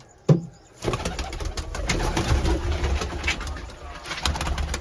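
Domestic pigeons being let out of their loft give soft cooing calls, with a sharp knock at the start and continuous bird sounds and rustling close by.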